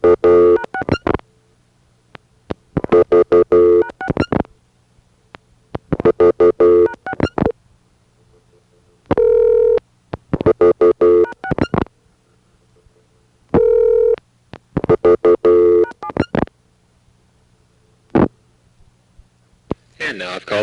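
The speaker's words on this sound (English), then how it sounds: "now I'm going to dial a few more weather calls" Touch-tone dialing on a 1983 1A ESS Centrex telephone line, placing weather calls: bursts of DTMF tones in clusters with short pauses, broken by a couple of steady longer tones, all clear and close over a faint line hum.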